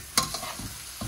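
Fried eggs are stirred gently in a pan, giving a brief scrape and soft sizzle lasting only a moment.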